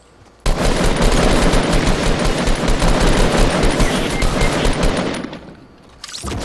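Sustained Fortnite gunfire, a dense roar of rapid automatic shots that starts abruptly and continues loud and close for over five seconds before fading, then resumes briefly.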